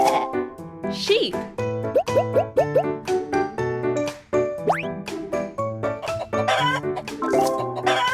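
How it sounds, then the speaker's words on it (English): Cartoon chicken clucking in a kids' animal learning cartoon: repeated bouncy clucks and squawks set over upbeat music, with a voice speaking alongside. "Chicken."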